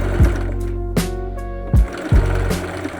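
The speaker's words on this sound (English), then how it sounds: "get to the sewing machine again" A sewing machine whirring in short runs, with a few thumps and clicks between bursts of stitching, close by, while hemming long sleeves.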